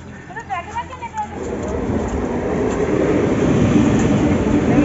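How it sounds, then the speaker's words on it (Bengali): A train pulls into a busy station, with a rising rumble and rolling noise building under a few short voices at the start and growing steadily louder to the end. "ট্রেন ঢুকে গেছে"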